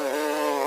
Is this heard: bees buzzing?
yes